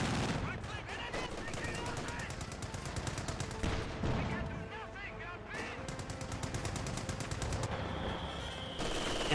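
Sustained MG34 machine gun fire in the video game Company of Heroes 2, loud rapid bursts layered with other gunfire and explosions throughout a busy battle, with a voice commentating over it.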